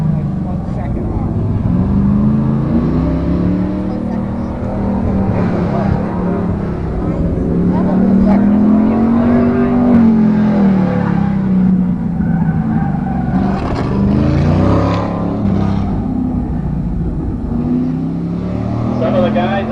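Race cars lapping a track at a Goodguys car show, engines droning and rising as they pass at close to middle distance, with an announcer talking continuously over the motor noise.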